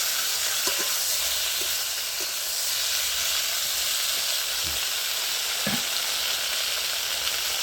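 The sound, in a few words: boiled flat beans added to hot oil, sizzling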